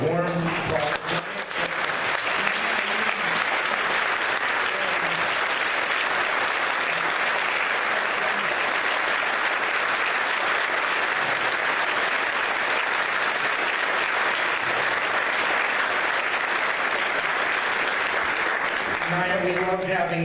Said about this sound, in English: And I'd like you to give a warm applause.